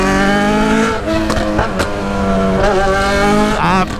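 A Yamaha XJ6 motorcycle engine revving loudly close by, its pitch climbing and dropping in several sharp throttle bursts with brief dips between them.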